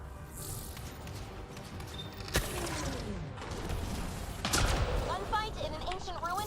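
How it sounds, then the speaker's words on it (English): Gunfight in an ancient ruin in Mass Effect Andromeda: bursts of gunfire and sharp impacts crackle over a busy combat soundscape, with a loud shot near the middle and heavier fire later, while voices talk throughout. "Gunfight in an ancient ruin?"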